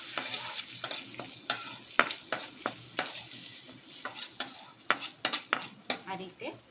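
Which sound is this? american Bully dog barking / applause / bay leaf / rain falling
bay leaf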